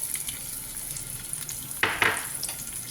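Chopped onion and garlic go into hot vegetable oil in a pan, setting off a sudden loud sizzle in two quick bursts over a faint background hiss.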